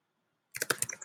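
Typing on a computer keyboard starts after half a second of silence, a close, quick run of crisp key clicks in an uneven rhythm.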